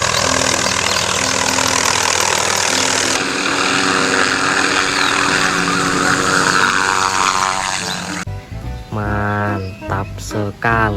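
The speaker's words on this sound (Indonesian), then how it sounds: "Ada helikopter perang teman-teman." Military helicopter heard as a loud, steady engine and rotor drone that fills the first eight seconds, then gives way to sharper, choppier sounds near the end.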